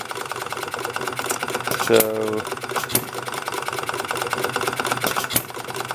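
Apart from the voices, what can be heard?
Perkins model hit and miss engine running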